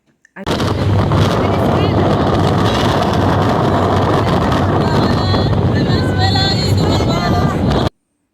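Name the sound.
ferry travelling from St. Kitts to Nevis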